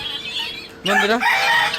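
Ducks and chickens on a rooftop clamour for food. A quiet start gives way to a sudden, close burst of loud squawking and clucking calls.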